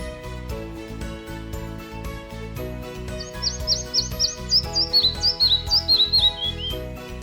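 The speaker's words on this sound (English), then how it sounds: "Vermilion Flycatcher." A Vermilion Flycatcher from the Death Valley region calls in a rapid series of thin, high chirps, heard over steady background music.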